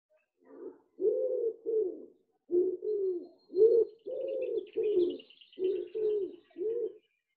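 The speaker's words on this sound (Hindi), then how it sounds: "Bird is singing. What a beautiful noise." Repeated soft cooing bird calls, about ten phrases in a steady rhythm, clear and fairly close, with faint higher chirps in the background.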